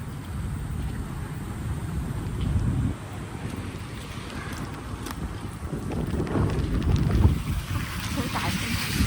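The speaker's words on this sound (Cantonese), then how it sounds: "好大風，" Strong wind roars through a New York street during a snowstorm, a broad continuous rushing gust buffeting close to the microphone, with someone talking intermittently over it.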